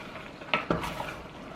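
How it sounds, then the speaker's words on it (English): Spinach being stirred through one-pot chicken gnocchi in a pan: a couple of soft clinks and scrapes of a utensil against the pan over a faint, steady simmer, close and fairly quiet, with no talking. "So 2 handfuls of spinach. And just mix that through."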